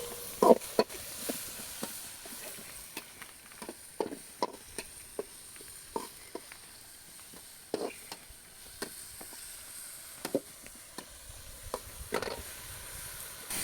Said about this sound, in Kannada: ನೀರುಳ್ಳಿ ಬಾಡ್ಗ ಟೊಮೆಟೊ ಎಲ್ಲ ಬಾಡ್ಗ